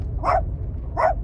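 A dog on a road trip toward Arizona barks twice, loud and close, with a short pause between the two barks.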